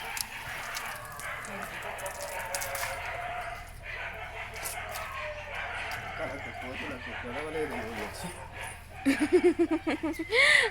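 Dogs give a few short yelps and whimpers near the end, over background talking and ambient outdoor noise.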